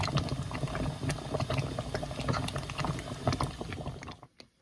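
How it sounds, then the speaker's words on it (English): Grape jelly meatballs boiling hard in a pot on the stove, giving dense bubbling and popping with irregular sharp plops that carry on throughout and then cut off abruptly at the end, with no speech. "Okay, so it's boiling really good."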